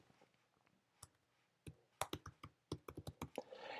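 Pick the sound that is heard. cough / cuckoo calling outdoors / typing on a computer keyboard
typing on a computer keyboard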